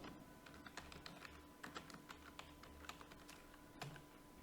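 Typing on a computer keyboard while entering a spreadsheet formula, a quiet, close run of uneven key clicks with a few sharper taps like the enter key, no voices over it.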